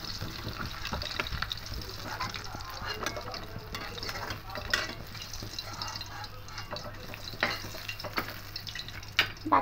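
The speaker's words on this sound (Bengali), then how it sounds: "এবার এই তেলটা গরম হলে তেলের মধ্যে মাছগুলো একে একে ভেজে নেব।" Pomfret fish frying in hot oil, a quieter sizzle broken by stirring and scraping of a utensil in the pan, with irregular crackles and occasional louder bursts, close up.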